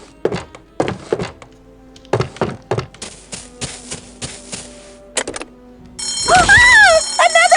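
Fire alarm bell ringing in the Escape from Monkey Island game, a loud continuous clanging ring bursting in after a series of sharp thunks and clicks.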